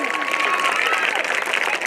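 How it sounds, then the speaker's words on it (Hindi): A crowd of children at a school annual function claps loudly and continuously, a dense close wash of applause with no break. "तालियां बजने से बंद नहीं हो रही है।"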